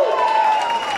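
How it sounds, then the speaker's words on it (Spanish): A crowd at a live community event applauds and cheers for a children's band, with dense, close clapping mixed with a steady high tone throughout the short burst. "denle fuerte un aplauso a los chiquillos de la banda"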